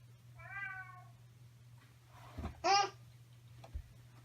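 An indoor house cat gives a drawn-out meow near the start, then a shorter, brighter meow a couple of seconds later, with a soft thump and a quiet hum in a calm room.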